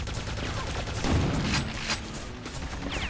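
Gunfire in the video game Quake 2 The Reckoning, a dense continuous barrage of shots and impacts filling the whole short stretch at close range.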